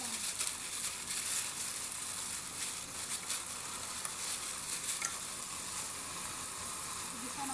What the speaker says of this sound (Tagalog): Gisa natin ng konti